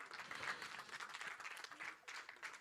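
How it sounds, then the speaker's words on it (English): A trailer launch audience breaks into steady applause, a dense wash of many hands clapping at moderate distance, faint and continuous with slight swells throughout. "big round of applause from Runal and Shahid Kapoor"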